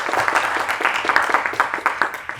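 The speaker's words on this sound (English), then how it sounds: "let's give a round of applause to the speakers" Audience applause for panel speakers at a grant allocation strategy panel: a steady wash of many hands clapping throughout, fairly close and even, with no voices over it.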